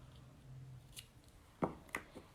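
Copic tweezers gripping and pulling a nib out of a Copic marker, a few faint, sharp little clicks and snaps close by against a quiet background.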